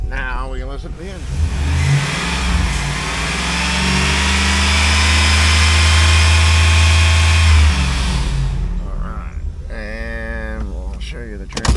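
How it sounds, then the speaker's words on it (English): A 2004 Chevrolet SSR 5.3L LM4 V8 engine runs with a steady hum that swells louder in the middle, with people talking briefly at the start and end. "now we can listen to the engine."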